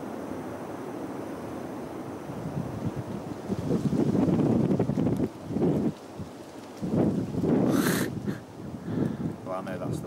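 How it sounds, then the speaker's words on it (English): A strong gust of wind sweeps through woods at night around a castle in Cornwall, rising into loud, roaring bursts that rustle the surroundings, with people talking over and between the gusts. "it is the biggest gust of wind we've had all evening"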